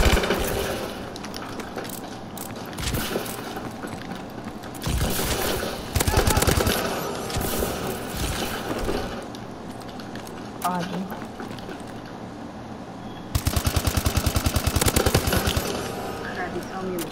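Rapid automatic gunfire from a KF5 in Call of Duty: Advanced Warfare, bursts repeating across the clip with a sustained fast volley near the end, loud over game sounds and players talking.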